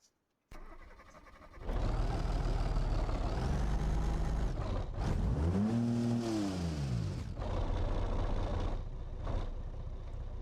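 A 1966 Gavril Bluebuck 232 in a video game cranks over and fires up, then settles into a steady, loud, close idle with a revving swell partway through, running alone with no talk.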